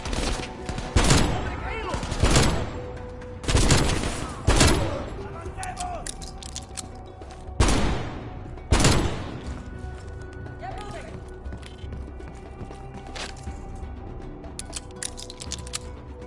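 Gunfire in Call of Duty: Cold War, loud sharp shots in clustered bursts over the first nine seconds, then sparser distant pops and crackles under a low rumble.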